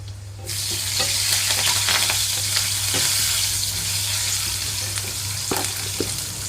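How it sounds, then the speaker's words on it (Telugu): Steady crackling sizzle of about ten small dried red chillies frying in hot tempering oil for tomato chutney, with scattered pops and spatters and a low hum underneath. "తాలింపు వేగేటప్పుడు ఇందులోనే ఎండుమిరపకాయలు వేసుకుంటున్నాను"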